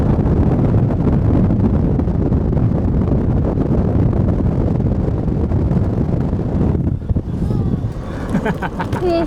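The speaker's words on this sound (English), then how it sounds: "It's so windy up here" Strong wind at the hilltop lookout of Ljubljana Castle, a loud, constant roaring rush buffeting the microphone that eases briefly near the end, as faint background sounds come through.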